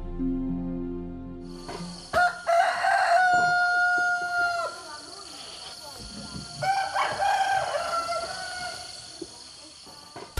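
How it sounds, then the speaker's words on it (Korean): A rooster in a Mentawai village in Indonesia crows twice, clear and moderately close, over a quiet rural background. "닭은 멘타와이 부족의 시계이자 주술의 도구입니다."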